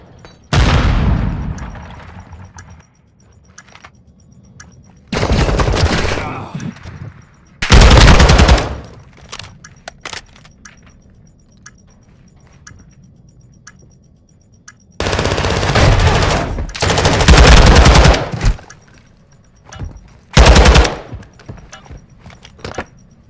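Loud bursts of automatic gunfire in Call of Duty: Modern Warfare II ranked play, several long sustained volleys and short rapid bursts separated by quieter stretches.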